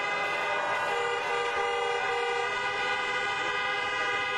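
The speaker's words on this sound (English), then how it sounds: "let's honk for the outstanding band" A sustained, loud honking tone with layered harmonics holds steady throughout, car horns blaring together without pause at a drive-in political rally.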